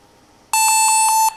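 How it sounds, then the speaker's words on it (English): A barcode scanner gives a single loud, steady electronic beep lasting just under a second after a quiet moment, reading a Code 39 or Code 128 label at a barcode matching station. "Yes, you hear the beeping sound."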